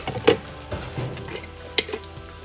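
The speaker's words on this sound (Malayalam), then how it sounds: "ഒരു 3/4 ടീസ്പൂണോളം മഞ്ഞൾപ്പൊടി ചേർത്ത് കൊടുത്തു കേട്ടോ. അതും കൂടെ ഒന്ന് വഴറ്റിയെടുക്കാം" Onions fry in a pan with turmeric powder as a spoon stirs them, a soft sizzle broken by a few sharp scrapes and taps on the metal, with no voices.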